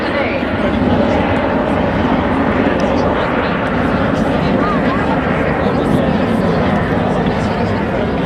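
A Boeing 727 jet makes its final display pass at 270 knots over the Cosford Airshow, a loud, continuous roaring rush that fills the whole stretch while a commentator talks over it.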